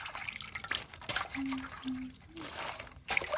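Water trickles and splashes as freshly picked mak mao leaves from the forest are rinsed, a soft, uneven dribbling close by with faint background sounds.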